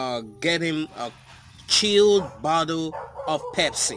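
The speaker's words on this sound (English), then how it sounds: "Excuse the dog barking there." A dog barks in short bursts close by in a home while someone talks over it, the barks mixed between his words.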